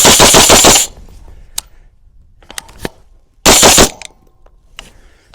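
A semi-automatic AR-15 or AK-47 pattern rifle fires two rapid bursts of sharp, loud shots close by, with scattered clicks and handling noises in the quiet between them.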